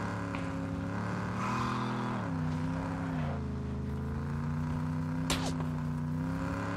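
A car engine in PUBG drones steadily at close range, its pitch climbing and dropping as the vehicle shifts and accelerates, with a brief sharp knock near the end and no voices.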